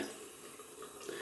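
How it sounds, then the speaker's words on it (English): Running water rinses a wet-shaving razor between passes, a steady faint hiss of tap flow with slight swells and splashes, heard alone without voices. "rinsing off the razor more easily now, so that's good."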